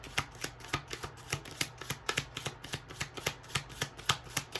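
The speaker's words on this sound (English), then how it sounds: "Let's get some more cards out." A deck of tarot cards is shuffled and drawn, rapid close riffling snaps and soft slaps repeating in quick, even bursts, no speech.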